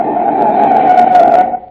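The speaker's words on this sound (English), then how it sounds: "That's the sound of a car as a desperate motorist has jammed on the brakes in an emergency." A radio sound effect of a car's brakes jammed on in an emergency stop gives a loud, sustained tyre screech that holds steady for over a second and then tails off, heard alone.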